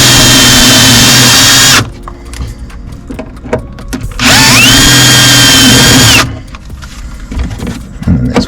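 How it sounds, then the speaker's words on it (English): A power drill with a 6mm bit bores out rivets while fitting mud flaps on a Ford Transit Custom, giving two loud whining bursts of about two seconds each with quieter handling noise between them. "I'm using a 6mm drill bit. Need to drill out these rivets."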